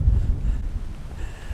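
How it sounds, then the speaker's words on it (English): Strong, cold wind buffets the microphone at a mountain lookout in Grampians National Park, Australia, producing close, heavy low rumbling gusts that ease slightly over a brief moment. "it's super windy up here and freezing cold"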